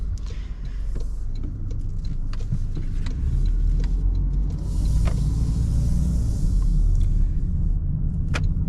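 A 2024 Toyota Corolla LE drives through New York City, a continuous low rumble of engine and road noise heard from inside the cabin, with occasional faint clicks and no speech.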